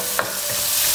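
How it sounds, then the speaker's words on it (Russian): Fish and mushrooms fry in a pan with a constant close sizzle and a brief stirring scrape, no voices heard. "Рыба жарит, грибы жарятся уже"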